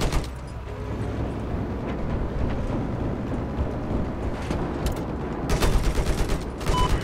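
Gunfire in the Battlefield 4 multiplayer shooter, a constant loud clatter of rapid overlapping shots and distant explosions filling the whole stretch, with no talking.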